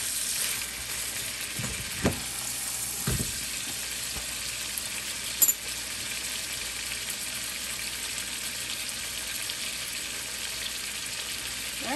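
A steak pan-frying gives off a steady, bright sizzle that holds evenly throughout, with a few brief clanks and taps from the pan.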